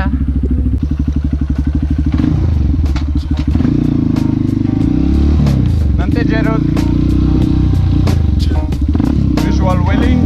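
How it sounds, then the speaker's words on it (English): A motorbike engine idles while warming up, then pulls away along a jungle road, its steady putter shifting through revs as loose clattering and crackling from the rough surface cut in close by. "We're gonna warm the bike up and get that trip on, baby."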